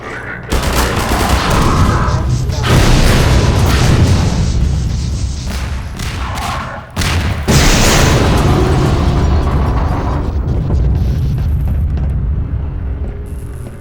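Loud, dense explosions and blasts from the video game Half-Life 2: Episode One rumble almost continuously, with a brief drop near the middle before the booming barrage resumes.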